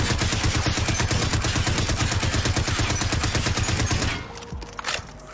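Sustained rapid automatic gunfire in Call of Duty Warzone, loud and continuous for about four seconds in a steady burst of shots, then cutting off to quieter game ambience.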